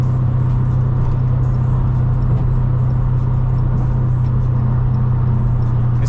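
A Dodge Hellcat driven through rush hour traffic gives a loud, steady, low engine drone and road rumble from inside the cabin, unbroken throughout, with no talk.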